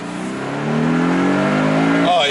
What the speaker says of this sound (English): That exhaust can wake anyone up early in the morning and give you the best experience.